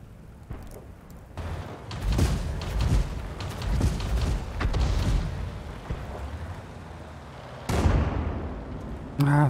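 Heavy booming blasts and rumbling impacts from a World of Tanks battle, with loud explosive bursts recurring throughout and a sharp final artillery shell hit near the end.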